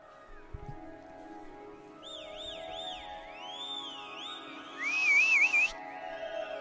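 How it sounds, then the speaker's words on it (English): Whistled melody from a live concert performance, a bright sliding tune over sustained music, rising into a louder warbling passage near the end. "I love whistling."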